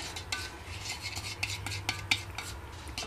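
Peppermint being stirred into a homemade probiotic deodorant cream, giving soft, quiet scraping and clicking of a utensil against the bowl in an uneven rhythm, close by with no talking.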